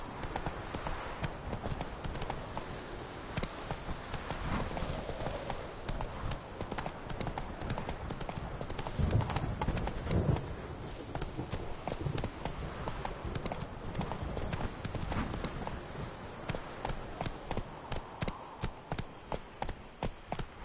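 Horse hooves from The Witcher 3: Wild Hunt Blood and Wine gallop in a fast, continuous clip-clop rhythm for the whole stretch, close and dense, with faint game ambience underneath.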